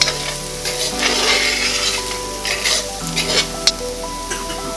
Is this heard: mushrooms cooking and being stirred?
yes